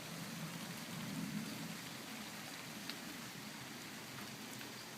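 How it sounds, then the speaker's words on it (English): Steady rain falls throughout, a soft continuous hiss with faint patter, fairly quiet and unbroken, no voices heard. "can hear the rain."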